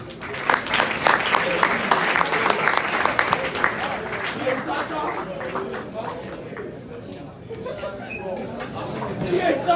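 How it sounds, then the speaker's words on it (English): Crowd applause for college athletes at an athletics event, strong clapping at first that thins out, with people chatting and laughing underneath. "Give them a hand of applause."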